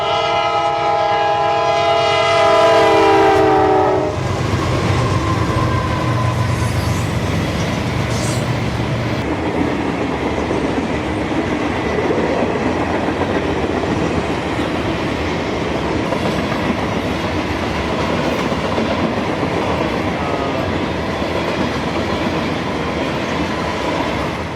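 Freight train K802 passing northbound at Briceville, horn blasting in loud harmonic tones for about four seconds, then a long, steady rumble and clatter of rolling cars continuing close by.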